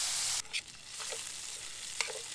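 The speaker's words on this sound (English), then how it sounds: "I fry off my bacon first." Bacon frying in a pan outdoors during a bushcraft cook, a soft steady sizzle with a few brief stirring scrapes, fairly quiet and close.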